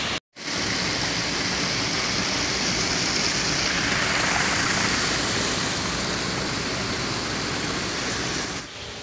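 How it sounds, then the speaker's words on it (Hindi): Heavy rain pours down in a dense, steady hiss that starts abruptly after a brief gap, holds loud and constant for several seconds, then drops off near the end. "इतना खतरनाक बारिश हुआ एक घंटा में, आप लोग देखना चाहते हो देखो"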